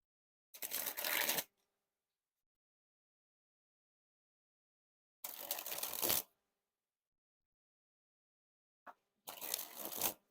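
A Theory11 Purple Monarchs deck of playing cards is sprung from hand to hand in three separate bursts of rapid, crisp riffling, each about a second long and close up, with silence between them.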